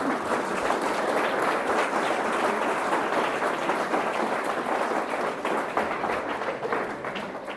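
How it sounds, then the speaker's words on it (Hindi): Students applaud at a Constitution Day lecture by a professor, a sustained, even burst of many hands clapping from a crowd, loud and close with no pause. "आप ताली बजा सकते हैं"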